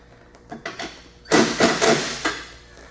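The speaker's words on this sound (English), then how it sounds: "I'm using a power tool just for the time constraints here" A power tool whirs in several short bursts while tightening trailer hitch bolts on a 2009-2012 Audi Q5, a couple of brief pulses followed by longer, louder runs, close by with no talking.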